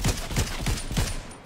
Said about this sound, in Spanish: Un tiro.